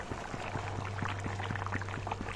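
Fish egg curry with fried fish roe simmering in a pot, giving a steady close bubbling with soft regular pops over a low hum, no voices.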